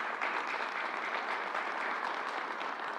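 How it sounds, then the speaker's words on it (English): A round of applause from an audience at a vaccine hesitancy briefing, steady dense clapping heard at moderate distance, even and sustained throughout without a voice over it. "let's give them a round of applause, please."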